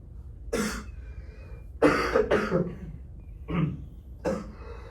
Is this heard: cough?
yes